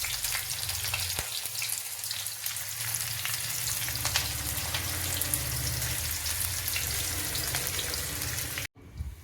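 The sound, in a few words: onions frying in oil with ginger-garlic paste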